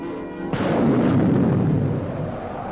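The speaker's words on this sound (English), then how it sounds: "The explosive birth of a strange new world, the planet Nova" A deep explosion effect marks the birth of a planet in a film trailer, bursting in suddenly and spreading into a heavy, rumbling roar that stays loud and sustained, with no talking.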